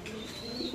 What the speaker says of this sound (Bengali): অবশ্যই এটা দেখতেই বোঝা যাচ্ছে যে এটা ক্লাবের কবুতর